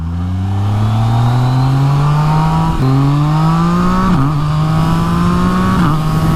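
Motorcycle ridden on a road on a hot, sunny day, its engine droning loudly and steadily up close, pitch climbing gradually through the gears with short dips at each shift.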